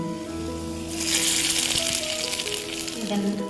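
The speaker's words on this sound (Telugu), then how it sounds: "దీనికి పోపు వేసుకుందామండి." Spices tempered in hot oil for tamarind pickle, a bright crackling sizzle that bursts up loudly and keeps spitting steadily, close by, with a faint steady hum underneath.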